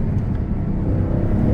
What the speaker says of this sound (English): Ooh, hear those turbos?